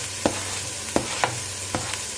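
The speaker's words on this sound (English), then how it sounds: "It's going to make that sizzling noise" Minced beef and sliced tomatoes frying in a pan, a steady sizzle with a few sharp stirring scrapes spaced through it, close and moderately loud, no talking.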